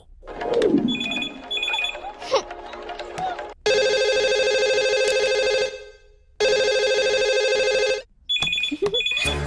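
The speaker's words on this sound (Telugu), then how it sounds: "ఫోన్ ఏంటి ఎంగేజ్ వస్తుంది?" A phone call hits an engaged line in a Telugu film scene, giving loud repeating bursts of an electronic tone separated by short gaps, with other scene sounds around them.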